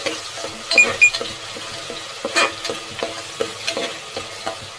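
Ginger-garlic paste roasting in a pan for country chicken sambar, with steady close sizzling and frequent sharp scrapes and taps of a spoon stirring, no voices.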